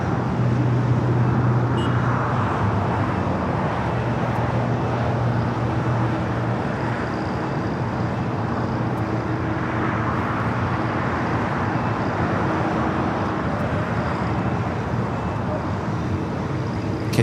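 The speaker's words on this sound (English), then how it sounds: "the flight heading back to Tokyo Narita, starting as taxi, will make a left-hand turn on the Bravo" An airliner bound for Tokyo Narita taxiing at Los Angeles LAX airport, a steady, distant low engine roar and rumble that holds evenly throughout with no voices.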